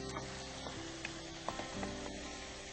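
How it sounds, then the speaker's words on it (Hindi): Spices such as cloves and black pepper fry and get stirred in a pan, giving a quiet, continuous sizzle broken by scattered scraping clinks from the spoon, with no talking. "इसको हिला लूं अच्छे से ताकि ये लगने ना पाए।"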